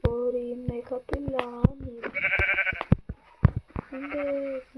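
A baby goat in Minecraft bleats several times in short, wavering cries, with game sounds and someone talking between them.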